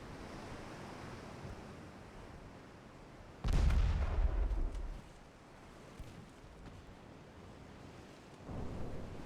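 Torpedo launch in the naval game Ultimate Admiral: Dreadnoughts, a sudden heavy low whoosh-boom that rises over a faint sea ambience and fades after about a second and a half, followed by a later swell of rushing water.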